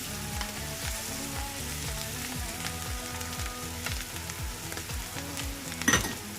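Spices are stirred into an oyster mushroom and meat sauce frying in a pan, with a continuous crackling sizzle, repeated scraping strokes, and a louder clatter near the end.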